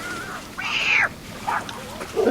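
A voice imitates a cat, drawing out a high, nasal meow followed by a couple of shorter mewing sounds, at a bass fishing tournament.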